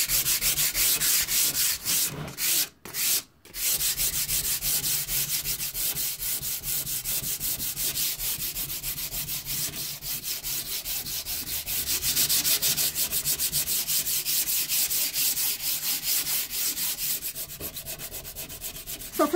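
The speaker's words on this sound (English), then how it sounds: "So the amount you sand is just going to depend on how much of that blue you actually want to show through." Steady hand sanding of a painted wood board with blue paint underneath, a continuous close scratchy rubbing that runs for the whole stretch with one brief pause near the start, no voices.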